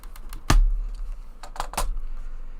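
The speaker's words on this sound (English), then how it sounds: "This is the right keyboard." Keys on a computer keyboard are struck in short irregular bursts, with a sharp louder clack followed by a quick flurry of taps, close and clear with no talking.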